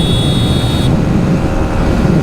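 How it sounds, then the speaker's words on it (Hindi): Yamaha MT-15 motorcycle carrying a pillion rider at speed in fifth gear, a loud steady roar of engine and rushing wind close by, with a high whine cutting out partway through. "यार विद पिलियन देखो MT-15 क्या भाग रही है यार, वाह भाई 111 5th गियर"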